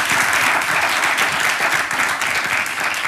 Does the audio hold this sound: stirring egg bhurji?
no